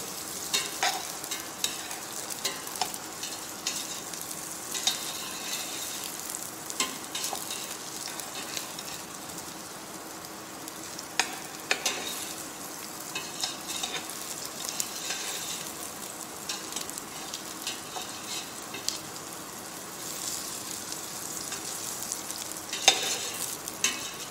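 Vegetables roasting in a pan over lowered heat for brown stock, a quiet continuous sizzle broken by frequent stirring scrapes and knocks of a spoon, close and without talk.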